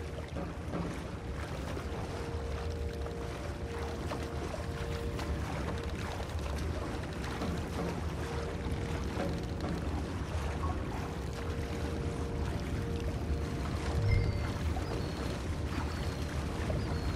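Paddling a rowboat in the Red Dead Redemption 2 video game: a steady wash of water sloshing and lapping with soft wind and faint splashes, continuous and low under the game ambience.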